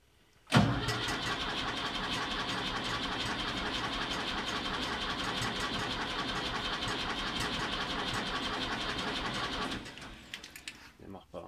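A Ford 550 tractor engine cranks over steadily without catching, a loud continuous churning that starts abruptly and runs for about nine seconds before stopping, close to the listener.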